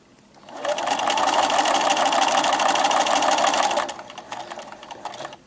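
A sewing machine stitches a fabric bookmark in one steady, loud burst of about three seconds, then stops, leaving quieter handling sounds.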